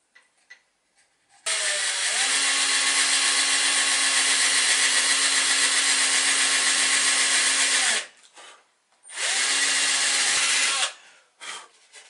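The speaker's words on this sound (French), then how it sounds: "On a commencé à percer avec un diamètre plus petit." Power drill boring a small-diameter hole into a wooden toy boat, a loud steady whine for about six seconds, a pause, then a second shorter burst, with no talking.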